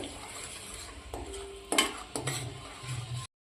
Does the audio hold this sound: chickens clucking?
no